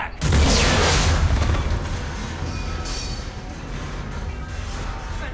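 Bomb going off in the Mass Effect 3 video game, a loud deep blast that hits suddenly and then rolls into a long rumbling decay and debris noise.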